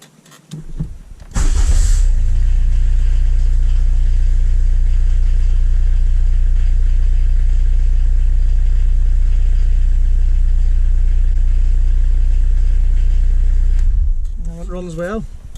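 A Peugeot 205 diesel turbo engine turns over briefly and catches inside a shed, then settles into a loud, steady, even diesel idle that runs unbroken for most of the stretch before tailing off.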